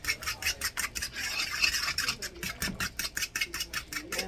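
Rapid rhythmic scraping of a whisk beating three eggs in a bowl, steady repeated strokes close by, with faint background TV noise.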